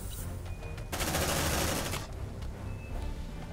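Gunfire in the video game Aliens: Dark Descent: a dense, loud burst of rapid shots dominates the middle second, with lighter bursts and rattling fire continuing around it.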